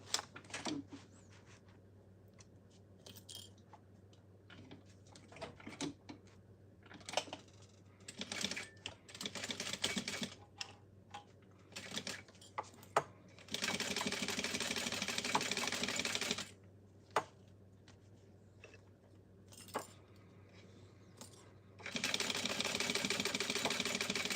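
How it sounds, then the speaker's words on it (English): A sewing machine stitches a mini backpack at a quarter-inch seam, with bursts of rapid mechanical clatter broken by handling clicks and pauses, two long steady runs standing out, close and alone. "now I want to sew that at a 1/4 inch"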